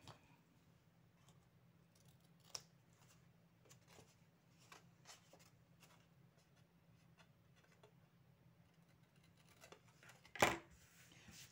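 Scissors snipping the corners of a folded card base, a few faint scattered snips and light clicks over a quiet room hum, with one louder cut near the end.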